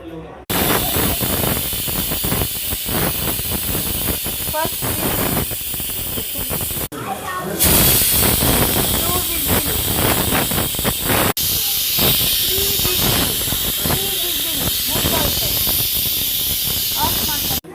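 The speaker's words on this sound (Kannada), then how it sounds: "ಒಂದು 3 ವಿಸಿಲ್ ಬರಬೇಕು. ನೋಡಿ ಲಾಕುವನ್ನು ಹಾಕಿದ್ದೀನಿ. 3 ವಿಸಿಲ್ ಬರಬೇಕು." A pressure cooker cooking tomato saaru lets off a loud, continuous close hiss of steam with a faint whistling edge, broken by brief shifts in tone.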